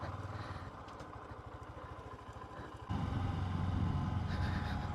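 A motorcycle engine chugs along at a steady, throbbing low pulse, then the revs rise into a louder, fuller drone partway through as the bike rides on.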